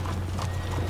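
Horse hooves clip-clopping in the video game Red Dead Redemption 2, a short burst of quick, even hoofbeats at close range with no talk.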